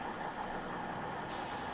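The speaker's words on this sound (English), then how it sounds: "the engine sounds are very loud, even into the pass view" A loud, steady electric locomotive engine hum from a train simulator game, a dense continuous drone with a hiss that cuts in and out near the start and end, heard alone without talking.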